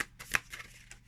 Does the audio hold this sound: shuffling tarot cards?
yes